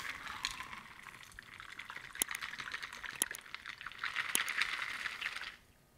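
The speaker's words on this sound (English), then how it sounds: "Now pour." An espresso martini cocktail is poured into a chilled Nick and Nora glass, a close, steady liquid splash with a few sharp drips and clinks that stops abruptly near the end.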